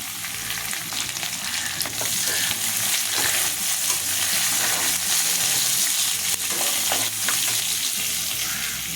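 Crushed garlic cloves sputter in hot oil for a fenugreek kuzhambu, giving a continuous, busy crackling sizzle close up, with light stirring clinks and no voices.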